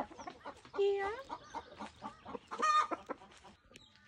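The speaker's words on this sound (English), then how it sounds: "this rooster here, he's our French Black Copper Moran." A French Black Copper Marans rooster and hens cluck close by in a free-range farmyard, giving a busy run of short clucks with a few squawks, plus a single brief spoken word.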